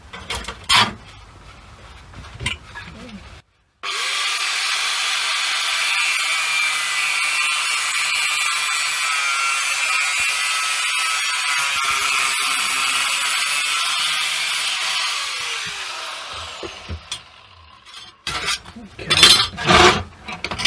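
A high-pitched power cutting tool slicing off a part for a Shelby Cobra scale model, a loud continuous whine lasting about fourteen seconds that tapers off, framed by short clicks and handling knocks before and after.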